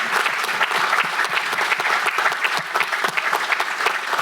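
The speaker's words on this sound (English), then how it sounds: "your family right there deserves a round of applause too" An audience at a city council meeting breaks into steady, dense applause, many hands clapping continuously at close range with no voices.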